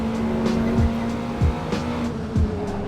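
A Caterham race car in a sim racing game at Watkins Glen, its engine droning steadily while tires squeal in several short bursts as it works through corners, loud and close.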